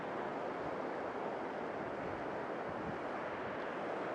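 Water spills over rocks in a small waterway, a steady broadband rush close to the microphone with some wind buffeting, continuous throughout with no talking.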